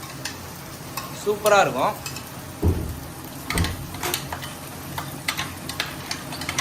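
Ginger-garlic paste and onions fry for biryani: a steady sizzle with a spoon scraping and stirring the pan in uneven strokes, close up, while someone speaks briefly.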